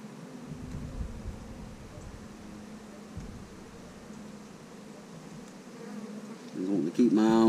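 A dense, steady hum of honey bees buzzing in an open hive during an inspection, continuous and close throughout, with a louder, nearer rise of activity at the very end.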